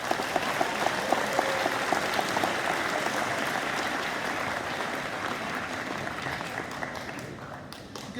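An audience at a high school awards ceremony applauds, giving a dense, sustained patter of clapping that begins loud and slowly fades over several seconds.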